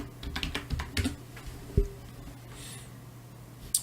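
Keys clatter on a computer keyboard in a quick irregular burst, a few louder clicks standing out, then a quieter stretch and one last sharp tap at the end.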